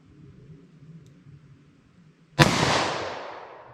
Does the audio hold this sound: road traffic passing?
no